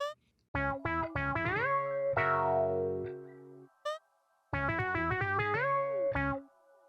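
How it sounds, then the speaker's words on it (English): Short synthesized video game jingles for entering and exiting levels, bright bouncy tones with an effects-laden, slightly distorted character, played as quick note runs and a held chord with brief silent gaps between phrases. "I also made a couple jingles for entering and exiting levels"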